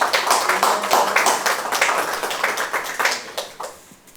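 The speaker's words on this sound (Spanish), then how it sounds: "Aplausos, por favor." Audience applause for two panelists at the close of a lecture on public-service professionalization, a steady patter of hand claps from a sizable crowd that fades toward the end.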